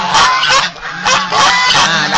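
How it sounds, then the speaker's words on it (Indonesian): Geese honk loudly and repeatedly in a dense, overlapping chorus on a goose farm with ducks nearby, the calls close and continuous with only brief dips. "Lihatlah betapa riangnya angsa saya, betapa riangnya angsa bersama dengan itik yang berada di sini ya."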